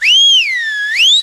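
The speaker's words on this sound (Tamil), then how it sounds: "எவன்டா விசில் அடிச்சது?" A person gives one clear, loud whistle that rises, dips, then climbs again in a smooth glide lasting just over a second, with no other sound behind it.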